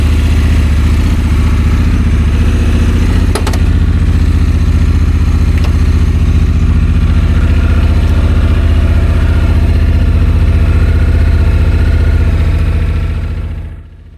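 A 2024 Honda Africa Twin DCT motorcycle idles close by with a loud, steady low throb and a faint mechanical clatter, then the engine is switched off and the sound fades away.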